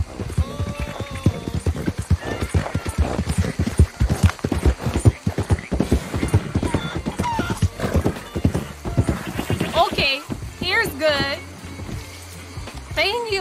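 Video game horse hooves clip-clop in a steady rhythm on the road, close and clear, with a horse whinnying near the end and a game character talking over the hoofbeats.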